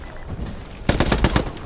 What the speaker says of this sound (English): I just spawned in and fucking gunfire from Gringo and people screaming.